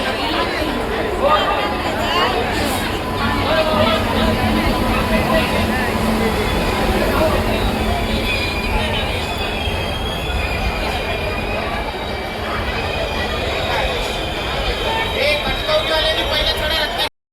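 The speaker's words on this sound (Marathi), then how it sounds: "थोड्या वेळानं आता ट्रेन येतली आमची।" Train pulling into Kalyan station on a pilgrimage trip, with rumbling rail noise and faint wheel squeal running steadily through the scene while a crowd chatters on the platform.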